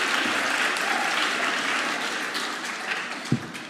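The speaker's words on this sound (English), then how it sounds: "Can we get one more round of applause for Mr. Mike, please?" An audience at a speech night gives a round of applause for the host, Mr. Mike, with steady, moderately loud crowd clapping throughout and a single sharper thump near the end.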